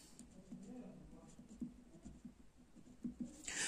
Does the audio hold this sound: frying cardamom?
no